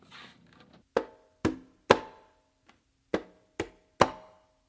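Conga drum played in a tumbao pattern with finger strokes, a bass tone and a palm slap, giving a series of sharp, close hand strikes in an uneven rhythm with brief ringing tone after each hit.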